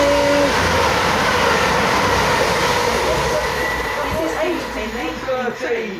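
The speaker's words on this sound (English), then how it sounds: "Incoming now, we have an East Midlands Railway service" An East Midlands Railway train, a Meridian unit, pulls into Beeston station with a loud, steady rumble of wheels and engine close by that eases slightly near the end, faint voices underneath.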